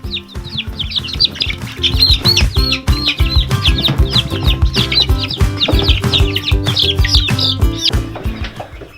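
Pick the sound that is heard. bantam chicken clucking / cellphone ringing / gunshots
bantam chicken clucking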